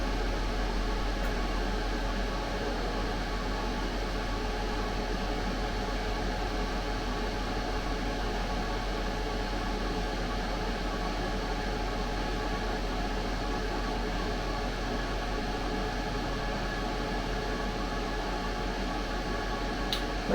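Ninja 10-in-1 multi-cooker preheating with its fan running, a steady, even whirring hum holding at a constant level for about twenty seconds with no talk.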